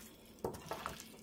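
Chicken wings being tossed with oil in a bowl, a few soft wet slaps and scrapes in quick succession, close and quiet, with no talking.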